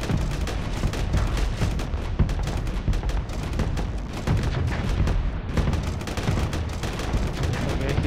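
Missile salvos in the Star Sector space combat game (Project Ironclads) launch as a dense, rapid stream of sharp thumps and bursts over a constant low rumble, loud and continuous.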